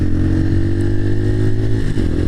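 A motorcycle engine drones steadily while riding, a loud, close, continuous rumble with faint wind noise and no talking.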